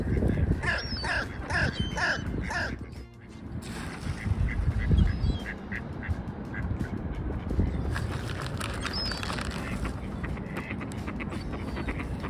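Ducks and crows calling outdoors, with a run of rhythmic quacks early on, then scattered calls over steady rustling and ambient background noise.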